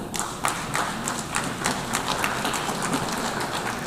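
Scattered clapping rises in the UN General Assembly hall after a speech by Finland's President Stubb, individual hand claps standing out as distinct sharp hits over a low room murmur, moderately loud and somewhat distant.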